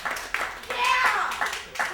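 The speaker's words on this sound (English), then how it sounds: "Clap if you broke." An audience at a stand-up comedy show claps in scattered bursts, the uneven applause mixed with voices and vocal reactions from the crowd.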